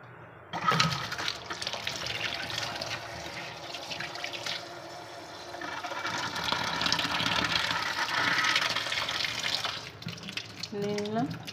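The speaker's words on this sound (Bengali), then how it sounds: "তো চলো আমি জলটা নিয়ে নিই।" Water runs from a kitchen tap in a steady, moderately loud stream for several seconds, with a brief clatter and a short pause near the end.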